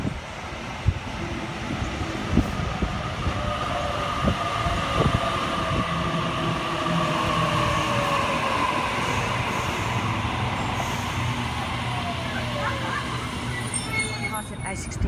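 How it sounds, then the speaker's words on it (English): A Sydney Waratah electric train, set A61 on a Leppington service, pulls into platform 2 at Guildford station with a steady, close rumble of wheels and motors, thin brake squeal tones drifting over it throughout. "A Warrantar arriving onto platform 2. It is a Leppington service."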